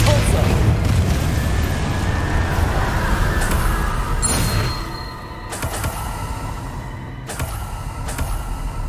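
Depulso force spell cast in the video game Hogwarts Legacy: a dense, loud rumbling boom and whooshing roar that dips after a few seconds, then continues with fainter crackling bursts and tonal game effects.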